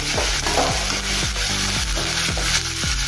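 Onion and green chilli frying in oil in a pan for a brinjal, potato and zucchini mixed vegetable, a steady close sizzle broken by repeated scraping stirs with a spatula, no voices.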